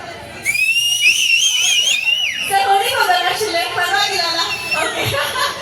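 Shrill, wavering whistles ring out from a crowd at a Namo Yuva run event in Hubballi for a few seconds, followed by lively chatter and scattered laughter.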